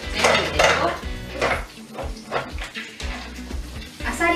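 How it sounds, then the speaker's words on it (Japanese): Clams dropped into a pan of sautéed ginger, a run of clattering shell knocks and scraping against metal, close and fairly loud, in uneven bursts. "生姜を少し炒めたらここにアサリを入れるよ。"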